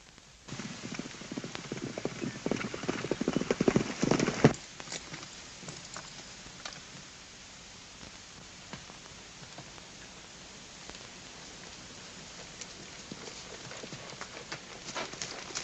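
Hooves of a white horse clip-clop as it approaches, busiest in the first few seconds and then thinning to a soft, steady patter over light background noise.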